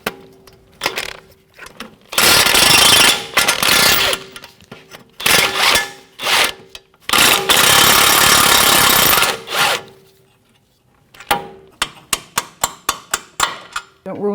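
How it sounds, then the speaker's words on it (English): A 1/2-inch impact gun with a 21mm socket zips out the front strut bolts on a 2007-2017 Jeep Patriot, loud ratcheting bursts of a few seconds each separated by pauses, followed by a run of sharp evenly spaced clicks or taps. "with a 21mm socket, 1/2-inch gun, and a 21mm wrench, we're going to take our strut bolts right out"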